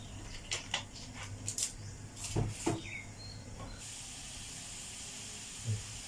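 A few scattered clicks and clunks, then a soft, steady gas hiss sets in and continues quietly to the end.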